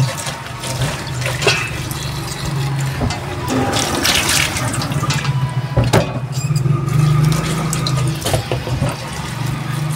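Running water splashing and sloshing against a metal cooking pot being washed, with scraping and clanks, steady and close, with intermittent bumps.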